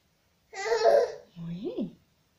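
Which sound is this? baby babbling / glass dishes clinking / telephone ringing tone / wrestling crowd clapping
baby babbling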